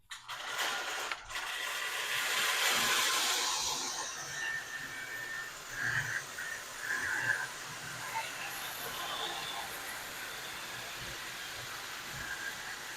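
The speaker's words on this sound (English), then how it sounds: "it is awesome to see these trains going around" O gauge model trains rumble and clatter steadily around a track, with faint mechanical whirring and occasional clicks, close by and continuous.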